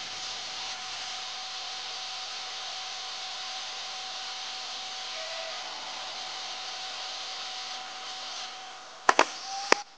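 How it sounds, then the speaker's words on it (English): A hot air rework station blows at 380 Celsius over an iPhone 14 Pro Max motherboard to lift a corroded chip, a steady close airy roar for about nine seconds, then a few sharp clicks as it stops. "We'll add heat at 380 Celsius to remove the corroded IC."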